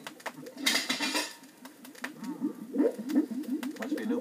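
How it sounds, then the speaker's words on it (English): A lid comes off a cauldron of vulture noodle soup left on a Bunsen burner, giving a brief metallic clatter followed by warbling, cooing bubbling sounds that continue near and moderately loud. "Let's take the lid off this cauldron and see what's cooking."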